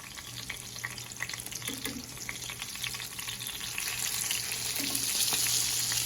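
Pork schnitzel fries in a pan with a steady, close sizzle that swells louder toward the end, with a few faint scrapes and a low hum underneath.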